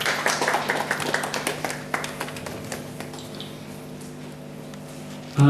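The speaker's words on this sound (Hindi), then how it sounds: "आप सभी तालियों से इनका स्वागत करें।" An audience at a publication event in Chamba, Himachal Pradesh claps to welcome a guest, brisk applause that thins out and fades to a quiet room hum within a few seconds.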